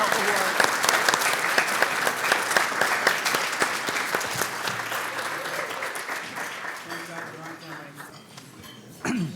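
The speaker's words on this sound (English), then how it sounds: "give a great round of applause for Dr. George Seperich" An audience applauds Dr. George Seperich as he receives the Arizona Rural Hero Award, sustained loud clapping from a full room that gradually thins out, with a voice briefly heard near the end.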